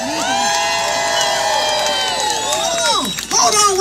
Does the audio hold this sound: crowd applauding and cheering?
yes